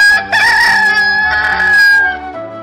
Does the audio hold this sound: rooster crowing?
yes